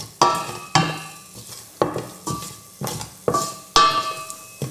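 Vegetables are stirred in a pot with a little olive oil, with repeated scraping strokes against the metal and a light sizzle underneath, about eight or nine sharp, close, regular strokes.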